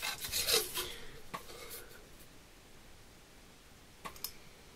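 Paper being cut for a Christmas album page: a few scratchy, rasping strokes of a blade close by, strongest at the start, then quiet, with a couple of brief clicks near the end and no speech.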